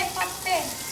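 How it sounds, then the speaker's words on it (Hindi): Vegetable curry being tempered in a hot pan in a home kitchen, a steady close sizzle and spatter lasting under a second, heard alone with no voices. "रुक जा भी कर रही मैं सब्जी छौंक रही"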